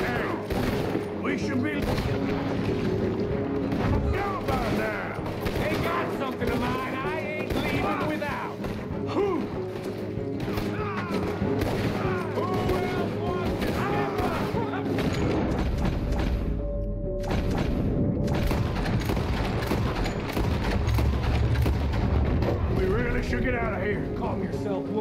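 Gunfire and explosions from Red Dead Redemption 2 keep up for the whole stretch as bursts of shots and booms, loud and dense, with game music and shouted dialogue running over them.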